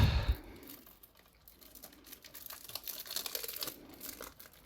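Plastic shrink wrap is torn and crinkled off a PS5 game box (Dragon Age: The Veilguard) close by, with a sharp tear at the start followed by steady, busy crackling rustle throughout.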